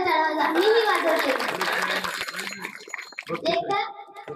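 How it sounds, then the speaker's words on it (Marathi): Audience clapping at a children's kirtan, a burst of applause that fills most of the clip and then thins out, with bright hand claps close by and voices mixed in. "तुम्ही तुमच्यासाठी जोरदार टाळ्या वाजवा. मीही वाजवते"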